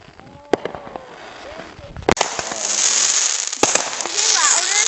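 Fireworks crack and pop in sharp bursts, some close and loud, over a sizzling crackle, while people chatter nearby.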